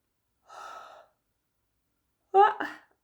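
A person yawns twice, with a soft breathy exhale first and then, after a pause, a louder, voiced, drawn-out yawn, close and alone.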